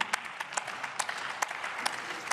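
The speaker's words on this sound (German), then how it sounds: "der hier auch zum Beispiel von der Linksfraktion Applaus bekommen hat" Applause rises in the German Bundestag after a speech on parliamentary involvement in infection-protection measures: sustained hand clapping from members of the chamber, with sharper claps standing out over a steady patter.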